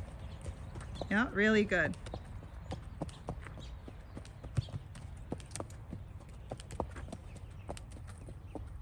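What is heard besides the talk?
Tennessee Walking Horse hooves walking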